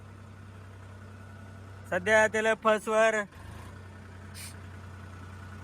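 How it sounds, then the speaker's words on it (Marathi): A tractor engine idles with a low, steady hum throughout, and someone briefly talks over it in the middle. "छोट्या भावाखड ट्रॅक्टर दिलाय बघा"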